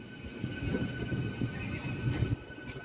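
A MEMU train pulls away from Peddapalli junction, its wheels rumbling and clattering steadily with a faint high squeal running underneath, heard from on board at moderate level.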